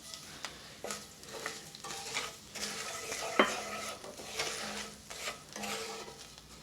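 Breadcrumbs fry in oil with a soft, crackling sizzle, broken by recurring scrapes of stirring and one sharp pop midway, quiet and close.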